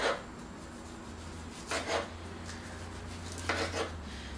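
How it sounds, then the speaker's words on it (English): A big kitchen knife slices heirloom tomatoes on a board, with a few distinct scraping cuts standing out over a low steady hum, close and alone without talk. "Slice up the tomatoes. I like the heirloom tomatoes."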